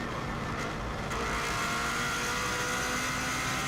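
A Subaru race car runs flat out on the Isle of Man TT road course, its engine a steady, dense roar held at high speed throughout, with no voices.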